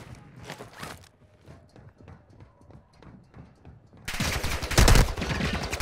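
Gunfire from another player in the Call of Duty DMZ game, a short loud volley early on and a heavier burst of rapid shots near the end, with quieter footsteps in between.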